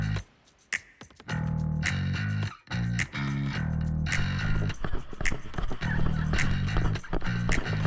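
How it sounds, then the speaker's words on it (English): Horses at a muddy outdoor mud run event in Nebraska, with loud dense activity and crowd noise through most of the clip after a brief quiet start and a short dip midway. "We got horses."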